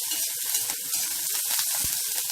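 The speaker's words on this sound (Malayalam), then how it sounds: "ഉള്ളിയൊക്കെ നല്ലോണം വഴണ്ടി വന്നിട്ടുണ്ട് കേട്ടോ." Onions, garlic and curry leaves sautéing in a pan for egg masala produce a close, hissing sizzle with small crackles and a brief stirring scrape near the end.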